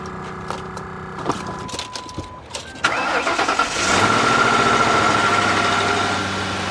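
A Lincoln Town Car with 156,000 miles cranks with clicks and whirring, then catches and settles into a steady, fairly loud idle with a humming whine.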